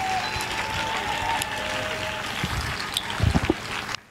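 Worshippers at a church service break into acclaiming applause for the Trinity, a thick continuous clatter of hands with a few sharper claps near the end before it cuts off abruptly.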